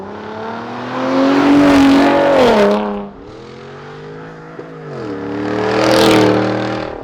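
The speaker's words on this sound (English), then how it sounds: "So they equalized the length of the exhaust to actually give it a better tone, and it now has valved exhaust." A Ford F-150 Raptor pickup's valved exhaust revs loudly twice, each rev rising to a deep throaty roar and then settling back to a rumbling idle, close by.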